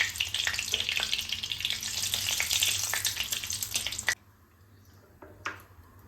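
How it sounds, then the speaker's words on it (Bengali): Bay leaves and a pinch of sugar sizzle loudly in hot oil for a Bengali chicken curry, a dense steady frying hiss that cuts off abruptly, leaving near silence broken by a couple of faint clicks. "তেলটা গরম হয়ে গেছে, এর মধ্যে দিয়ে দিচ্ছি তেজপাতা আর একটুখানি চিনি"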